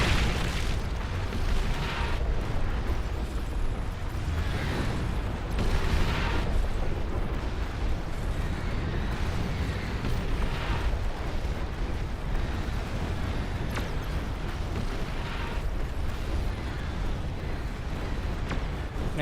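Juno units fire in the real-time strategy game Beyond All Reason amid a massive battle, a steady roar of distant artillery booms and pops rolling on continuously with no voices.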